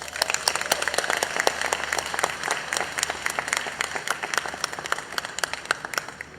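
A crowd at a university orientation week welcome event gives the O Week team a warm round of applause, with dense, steady clapping throughout at moderate distance.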